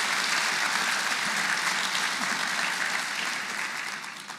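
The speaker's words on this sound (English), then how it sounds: "we should give those learners a good round of applause for their great achievement" An audience at a basic education sector plenary applauds learners for their results. The clapping is dense and continuous, with many hands in the hall, and it fades slightly toward the end with no voices over it.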